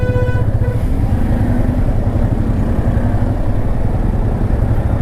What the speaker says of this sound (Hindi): ट्रैफिक ही ट्रैफिक है।